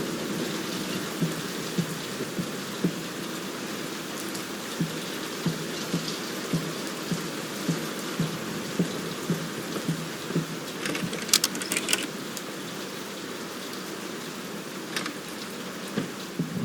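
Steady rainfall in the horror game Layers of Fear, a dense continuous hiss of drops on surfaces with scattered louder splats and a faint low rumble underneath, close and unbroken.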